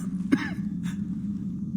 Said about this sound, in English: you will notice Eve has a persistent cough when speaking to you